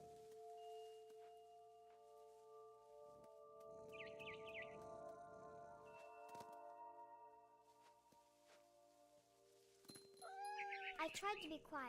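A cat meows in the game What Remains of Edith Finch, with short cries and brief bird chirps over a soft musical hum, and a louder burst of sounds near the end.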